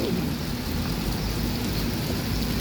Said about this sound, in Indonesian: Kondisi terkini lagi hujan di terminal.